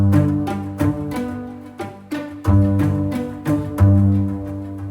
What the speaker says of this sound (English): the low pizzicato. These are the same strings as before,